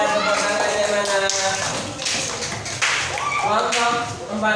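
A crowd of sixth-grade elementary school children clapping steadily for several seconds in a classroom, loud and close, with voices mixed into the applause.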